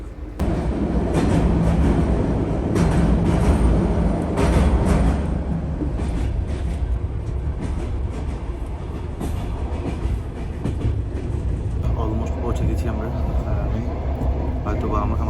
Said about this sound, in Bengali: এই যে ট্রেন দেখতে পাচ্ছেন